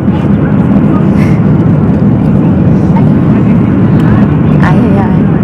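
Steady, loud airplane cabin roar during descent for landing, a constant broadband engine and air rumble with faint voices murmuring in the background throughout.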